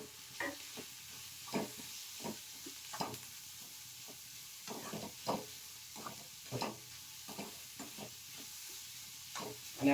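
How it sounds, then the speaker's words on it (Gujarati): Chopped carrot with bell pepper sizzling in a pan while being stirred, a soft steady frying hiss punctuated by repeated scraping stirs, close and quiet with no talking. "અને આપણે 2 મિનિટ માટે પકવી લેશું"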